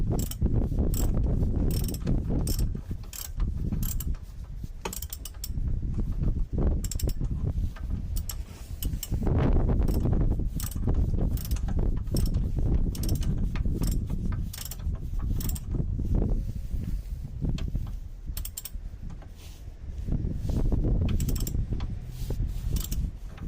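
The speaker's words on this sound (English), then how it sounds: "We are just tightening this up using the standard ratchet just now." A standard ratchet tightening the rear wheel bearing hub on an Alfa Mito outdoors, with a long run of repeated clicking strokes in uneven bursts, close and moderately loud with no talk.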